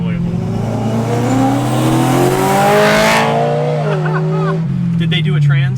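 A BMW M3 with quad resonators revs hard, its exhaust note climbing steadily, peaking, then dropping back to a rumbling idle, loud and close.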